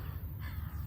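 A crow caws sharply outdoors, close and clear over steady low rumbling background noise, in a brief burst lasting under a second.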